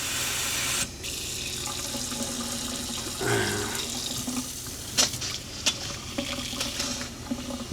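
An RV cold water faucet runs during winterizing, a steady close rush of flowing water into a sink with a few knocks and clatters partway through.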